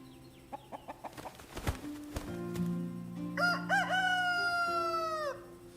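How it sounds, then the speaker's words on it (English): A rooster crows loudly and close by with a long, drawn-out call following several short clucks, with a steady hum in the background. "The day will dawn whether the rooster crows or not."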